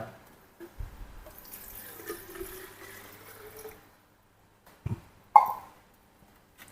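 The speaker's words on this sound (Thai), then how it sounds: "ดี๋ยวก็จะเอาน้ำนะครับ ที่ผสมกับน้ำยาเร่งรากลดได้เลยนะครับ" Water mixed with root stimulant is poured onto transplanted cannabis seedlings in pots, a soft trickling splash for about three seconds, followed by a couple of brief knocks near the end.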